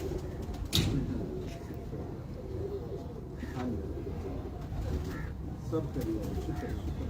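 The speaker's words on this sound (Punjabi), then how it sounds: "ਇੱਕ ਚਿੱਟਾ ਕਬੂਤਰ ਅੰਦਰ ਹੈਗਾ ਬਿਮਾਰ ਜਿਹਾ" Domestic pigeons in a Lahore loft coo softly and steadily beneath a murmur of nearby voices, with one brief sharp knock early on.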